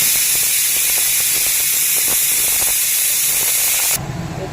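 A pressure cooker venting steam, a loud continuous high hiss right up close that stops abruptly near the end, leaving a quieter background.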